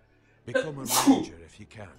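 A man sneezes once, mid-clip, in a short sharp burst, with speech before and after.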